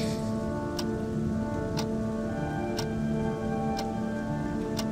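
Steady night rain in an atmospheric radio-drama soundscape, a dense even patter with a low hum beneath and a soft tick sounding regularly about once a second throughout.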